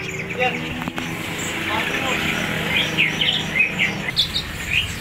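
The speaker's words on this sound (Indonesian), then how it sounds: "ini ada jalak putih gacoran" A white starling (jalak putih) at a bird market sings bright, chirpy phrases, with calls growing more frequent in the second half, under a voice and distant traffic.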